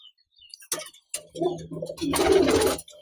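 A female Slaty Kaldume pigeon coos close by, a few soft low throaty notes rising into a longer rolling coo, heard alone without talk.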